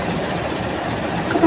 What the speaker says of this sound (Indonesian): Kereta Tegal Bahari menggunakan lokomotif CT206 tahun 2013, nomor urut 8.